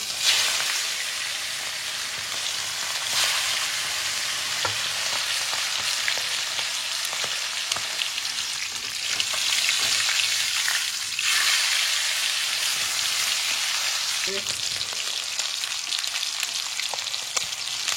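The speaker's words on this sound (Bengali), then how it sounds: "তেলের মধ্যে আমি চিকেনগুলোকে হালকা করে ফ্রাই করব।" Steady, dense sizzling of chicken frying in hot oil, continuous and close, swelling slightly louder midway with occasional faint clinks.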